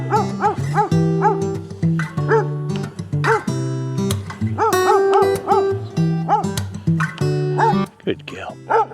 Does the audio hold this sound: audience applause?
no